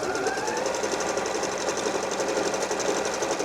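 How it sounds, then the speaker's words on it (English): A Bernette b38 home sewing machine runs steadily as it stitches back over a mended cut in fabric, a continuous close whirring hum with a fine rapid needle rhythm and no voices. "Now, I'm going to just turn it around, sew back over it gently."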